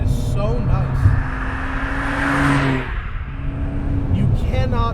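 A 1990 Nissan Skyline GTR being driven gives a steady engine drone with a brief rise in pitch mid-way, while someone talks over it at the start and end.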